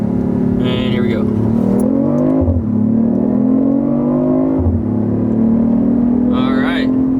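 A BMW i8 hybrid sports car pulls a rolling launch from 20 mph in first gear. Its loud, close engine note climbs steadily in pitch, dips briefly at about 2.5 and 4.7 seconds, then climbs again.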